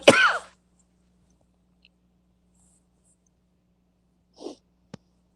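A single sharp, close sneeze bursts out at the very start, followed by near silence and a couple of faint small sniffs or clicks.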